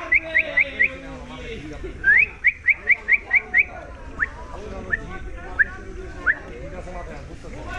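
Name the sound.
man imitating bird calls with his mouth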